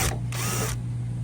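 A ratchet fitted with a 10mm socket clicks rapidly in a close burst while loosening a bolt on an FJ Cruiser rear door, then quietens under a steady background hum.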